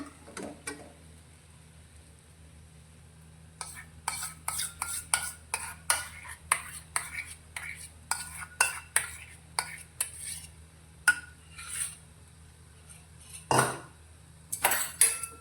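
Metal spoon scraping and clinking against a pan while mango pulp is stirred into semolina sheera, a steady run of irregular clatters over a low hum, with a louder knock near the end.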